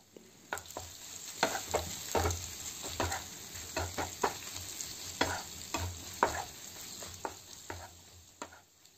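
Masala chicken fries with coriander and two tablespoons of Amul butter, a soft steady sizzle under repeated clinks and scrapes of a spoon stirring the pan.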